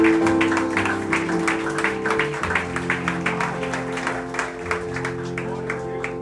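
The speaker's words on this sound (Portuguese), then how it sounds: "Uma salva de palmas ao Senhor" Congregation at Igreja de Nova Vida do Catete applauding the Lord: rhythmic group clapping over sustained organ or keyboard chords, moderately loud and ongoing throughout.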